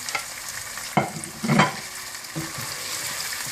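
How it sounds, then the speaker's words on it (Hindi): Mutton frying in a pan with ground ginger and garlic paste, a steady close sizzle with a couple of louder stirring scrapes and bursts in the middle. "गोश्त को थोड़ा सा भूनने के बाद आप इसमें पिसा हुआ अदरक लहसुन डाल दें"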